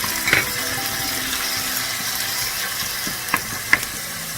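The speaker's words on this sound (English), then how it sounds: "I'm going to throw in the kimchi and I'm going to saute that for" Kimchi sautéing in a hot pan, a steady close sizzle and crackle running throughout, with a few sharper clicks and scrapes from stirring near the start and end.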